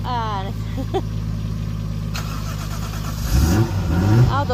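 Car enthusiasts' car engines start, rumble and rev up while warming up, growing louder toward the end, with people talking over the idling.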